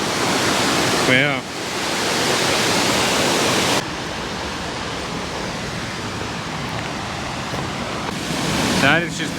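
A waterfall in the Victorian high country, pouring into a rock pool, roars as a loud steady rushing close by, with brief exclaimed speech at the start and end.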